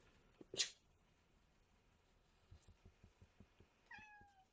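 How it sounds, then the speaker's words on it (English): A cat meows once, a short rising-falling cry near the end, after a faint high squeak and some soft tapping sounds in an otherwise quiet room. "I really hope y'all can hear that meow."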